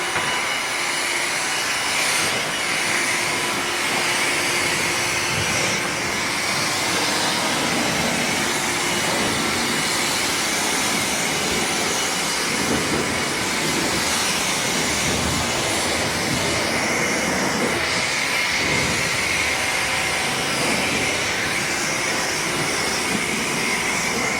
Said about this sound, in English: Great time to finish rinsing off the roof too.